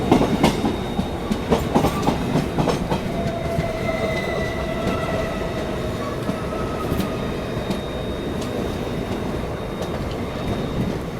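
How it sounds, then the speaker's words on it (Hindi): The Vasco da Gama–Hyderabad Express, hauled by twin EMD diesel locomotives, rolls past with a steady clatter of wheels on rail, rhythmic clicks over the joints and a thin metallic squeal from the wheels, loud and close throughout. "वैस्को द गामा हैदराबाद एक्सप्रेस"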